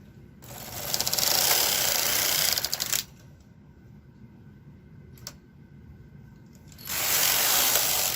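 A domestic knitting machine with a ribber knits ribbing for a yoke sweater, the carriage passing in two loud mechanical runs of rattling, whirring clatter separated by a quiet pause with a single click, and no voices.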